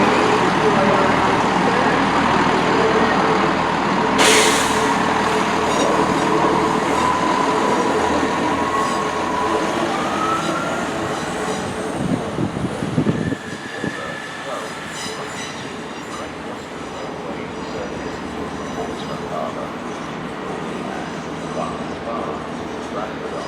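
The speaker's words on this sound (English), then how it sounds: "Departing now is the 12:12 Great Western Railway service, formed of 166216, bound for Portsmouth Harbour." A Great Western Railway train, unit 166216, pulls out of Bristol Temple Meads station, its engine rumbling and wheels rolling steadily close by. A brief high squeal cuts in early, and station announcements carry on over the noise.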